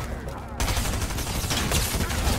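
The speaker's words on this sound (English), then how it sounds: "I have the Mythic Gunner SMG." Mythic Gunner SMG fire in Fortnite, a dense, steady stream of rapid automatic shots that runs almost unbroken for a couple of seconds, loud and close, with faint talk mixed underneath.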